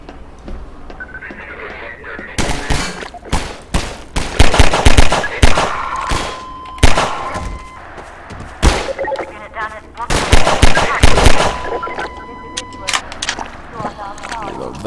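Rapid pistol shots ring out in Half-Life 2, a dense string of sharp cracks in bursts of several at a time with short pauses, loud and close, over ambient game sound.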